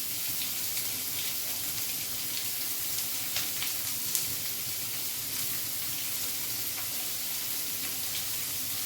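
Sliced onions, three medium ones, sizzle steadily in a pan as a spinach-paneer base turns golden brown, a dense, even hiss with faint crackles throughout and no voices.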